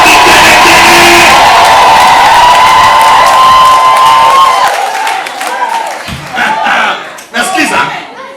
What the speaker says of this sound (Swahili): mshangilie Yesu kwa shangwe na vigelegele